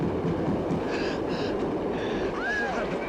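An elevated train runs on its tracks in a 1970 film chase scene, a loud, continuous roar and rattle of wheels with a brief metallic squeal, close and steady throughout.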